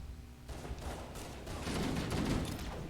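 A shotgun in Halo CE Anniversary fires in a rapid cluster of booming blasts that swell into a dense, rumbling volley, fairly loud and without speech.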